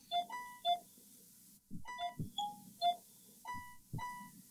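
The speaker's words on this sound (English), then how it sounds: "I think it's the different tone pulses we have to listen to." Short electronic tone pulses in a Super Mario Maker level, a series of brief beeps at differing pitches sounding in quick irregular succession, mixed with low thumps and soft game sounds.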